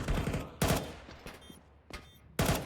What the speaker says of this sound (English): the shots have been fired there from Zedco.